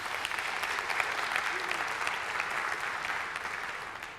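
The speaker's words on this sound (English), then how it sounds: "So please give yourself a huge round of applause." Steady applause from a conference audience at a Bitcoin industry event in London fills the room, dense and continuous from start to finish, with faint voices mixed in.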